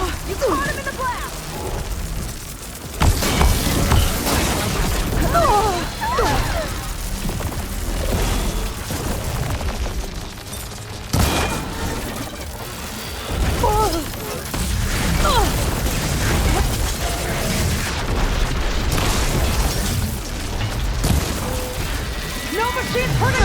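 Explosive blast in the video game Horizon Forbidden West, booming broadband bursts amid dense combat noise and music, with voices talking over it throughout.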